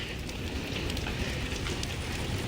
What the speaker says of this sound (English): Check it out, pea-sized hail.